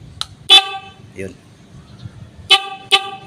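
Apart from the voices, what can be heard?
motorcycle horn honking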